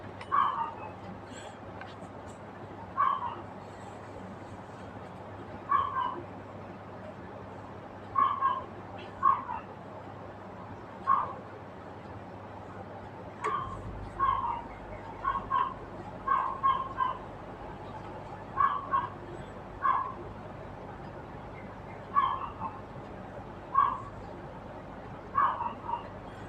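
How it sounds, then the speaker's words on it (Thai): A neighbour's dog barks in short scattered bursts from some distance, a dozen or so yaps spread over the clip, above a low steady background hum with no talking. "สียงน้องหมาข้างบ้านเห่านะครับ"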